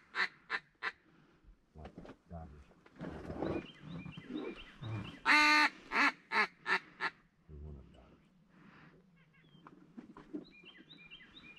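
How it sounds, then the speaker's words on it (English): Ducks quack in short bursts amid splashing and rustling as they fly off during a duck hunt, with a sharp loud honking call and low murmured talk between calls. "there's a bunch of ducks flying from us"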